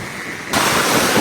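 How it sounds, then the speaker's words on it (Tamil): Storm-driven sea waves surge and crash ashore on the coast near Jaffna, a loud dense roar of surf that jumps up abruptly and stays heavy and continuous. "கடல் அந்த அலை அடிச்சு பழமையை விட வேகமா வருது பாருங்க"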